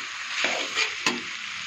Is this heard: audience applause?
no